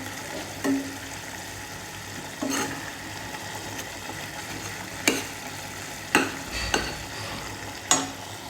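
Tomato chili gravy fries steadily in a pan with a constant sizzle, while a spoon stirs it in several sharp scrapes and knocks spread irregularly through the clip, close by and without talk.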